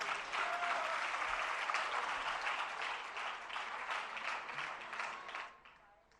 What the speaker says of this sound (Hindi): जरा जोरदार तालियां पारस जी भाई साहब के लिए।